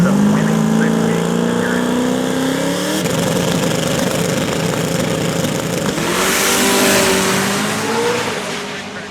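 A hot rod drag car at Hot Rod DragWeek roars hard down the strip, its engine pitch climbing through gears in a loud, sustained run close by.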